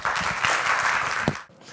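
An audience at a lecture gives enthusiastic applause to welcome a chief prosecutor, a full burst of clapping that carries on and then fades out toward the end.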